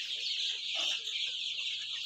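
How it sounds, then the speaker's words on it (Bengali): Egyptian Fayoumi chickens about 36 days old, some 1400 birds kept in a farm shed, cluck and chatter together in a steady murmuring flock noise, fairly close and moderately loud. "আজকে মুরগির বয়স 36 দিন।"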